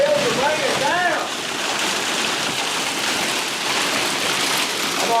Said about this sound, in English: we in the middle of a hailstorm. Hell's raining down.